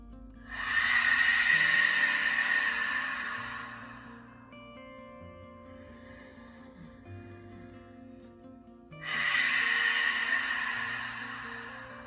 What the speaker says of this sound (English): you can start constricting on the inhale too